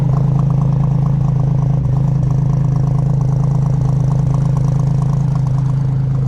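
A Chevrolet S10 Blazer engine runs at a loud, steady idle close by, its exhaust leak adding a rapid ticking clatter over the low rumble.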